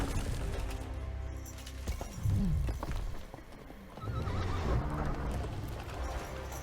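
Horse hooves clop along amid a busy mix of sound effects in The Witcher 3: Wild Hunt, with a horse whinnying and a brief crash partway through.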